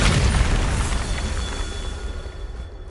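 The Bombarda spell in Hogwarts Legacy erupts as a loud, deep blast, a rumbling boom that dominates at first and then slowly fades away.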